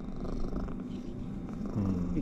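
A feverish cat purring close up, a continuous low rumbling purr with a rough, gurgling rattle from the throat, steady throughout with no talking.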